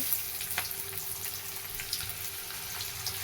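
Chopped onion fries in oil in a pan, a continuous close sizzle and crackle with scattered small pops and faint stirring, no talking.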